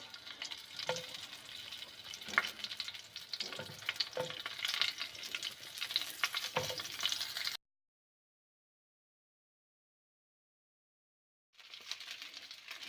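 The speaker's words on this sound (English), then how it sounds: "I put the bindi in the frying pan and I'm going to fry this one until it becomes crisp." Okra (bhindi) frying in oil in a pan: a steady close sizzle with occasional stirring clicks, cut by several seconds of silence before the sizzle resumes.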